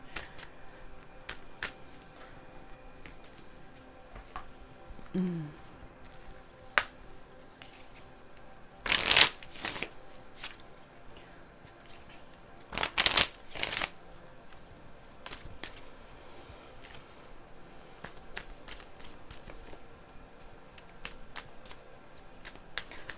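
Tarot cards shuffled by hand, heard as soft, steady riffling and sliding throughout, broken by two louder bursts of quick flicking cards, close and quiet with no talking.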